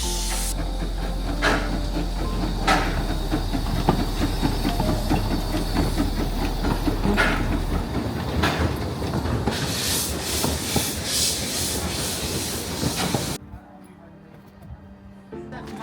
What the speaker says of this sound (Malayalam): ആ ട്രെയിൻ വരുന്നുണ്ട് ട്രെയിൻ നോക്കി നിൽക്കുക